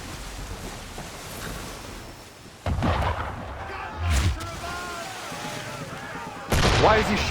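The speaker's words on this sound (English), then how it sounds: "Why is he shooting at us?" Enemy gunfire aimed at the player in Assassin's Creed 3 Remastered, several sharp shots and booming blasts breaking out in bursts over a rumbling game soundtrack, with a voice speaking in between.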